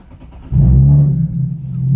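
A Nissan 370Z sports car engine cranks and catches with a deep rumble, then settles into a loud, throaty idle close by.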